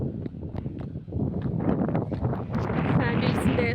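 Gusty wind buffets the microphone at Kanjirappuzha dam, a steady rushing roar that builds louder toward the end, mixed with scuffing footsteps and faint voices.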